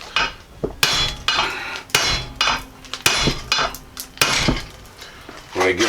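Metal hammer blows ring out against the rusted hub and knuckle of a Jeep Cherokee XJ, about a dozen sharp, loud clanging strikes at an uneven pace, close by.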